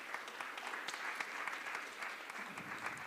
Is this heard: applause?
yes